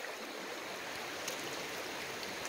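River water rushes and sloshes steadily while someone pans for gold, a continuous broadband wash close by, with no voices.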